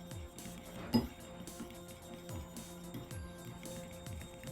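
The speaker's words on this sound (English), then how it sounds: "So you just want to keep stirring until all of your confectioner's sugar has dissolved in your milk" A glaze of confectioner's sugar and milk being whisked in a bowl with a whisk or fork, a quiet, rhythmic tapping and clinking against the bowl with one sharper clink early on.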